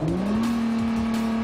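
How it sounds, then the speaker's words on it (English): A Nissan GT-R accelerates hard from a launch on a slick airstrip, its rear wheels spinning. The engine gives a loud, sustained roar that climbs in pitch and then holds steady, with no voices over it. "Hard launches generated heavy rear wheel spin on the slick airstrip."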